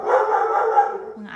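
Several household dogs bark and yelp close by in a steady, continuous burst, loud and alone before tailing off.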